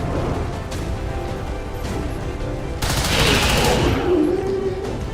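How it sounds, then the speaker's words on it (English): Heavy gunfire in XCOM 2 rolling as a dense, continuous fusillade under battle noise, swelling louder partway through into a sustained roar of shots. "Taking heavy fire."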